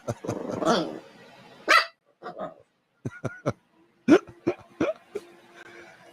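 A puppy lets out a string of short, irregular yips and barks, some clustered quickly and others separated by brief silences. It sounds close and fairly loud.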